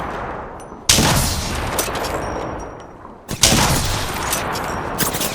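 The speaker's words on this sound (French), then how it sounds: "On se tire dessus." Gunfire in the video game Apex Legends: loud bursts of rapid shots, two dense volleys separated by sparser pops and clicks, close and punchy with no talking.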